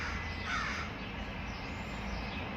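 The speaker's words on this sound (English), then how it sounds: "There's a real crow message." A crow caws outdoors near a tree, a single hoarse call at moderate distance over steady background noise, with no talking.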